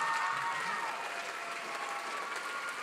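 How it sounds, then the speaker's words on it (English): An audience at a battle of the bands applauds a two-person horn section, a soft, even wash of clapping heard from some distance, with no voices over it. "give them a round of applause on the horn there"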